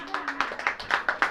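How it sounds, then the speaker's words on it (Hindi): Clapping from a church congregation during a sermon, about nine quick, separate claps in an even rhythm, fairly close and moderately loud, with a voice faintly beneath at the start. "अब ताली बजाओ।"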